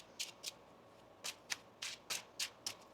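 Tarot cards are shuffled by hand in quick, crisp riffles, about eight short soft bursts in an uneven rhythm, close and quiet against a near-silent background.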